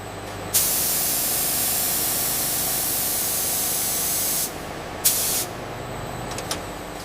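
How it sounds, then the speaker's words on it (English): Long continuous hiss of a deodorant aerosol spray nozzle misting, close and steady, followed by two short bursts after a pause. "The actuator cap contains the spray nozzle that atomizes the product into the fine mist pattern consumers expect."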